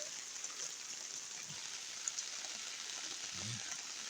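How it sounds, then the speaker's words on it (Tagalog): Heavy rain during a flood in Garden City: a steady, dense hiss of falling water that stays even and continuous throughout, with no voices. "It's raining hard again, Kikay."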